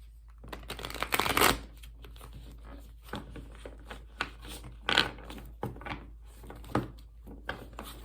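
A deck of tarot cards is shuffled by hand in quiet bursts of riffling and slapping, close and fairly soft, with pauses between.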